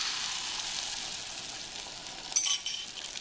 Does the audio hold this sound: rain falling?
no